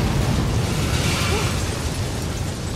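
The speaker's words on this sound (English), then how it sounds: "Big explosion over here!" Explosion in the video game Mirror's Edge Catalyst, a loud, sustained roaring blast with rumbling low end and hissy debris, filling the whole moment without a break.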